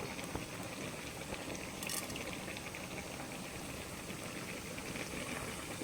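Cumin seeds frying in a spoonful of ghee in a pan over a gas flame, a steady faint hiss and fine crackle that stays even throughout with no voices.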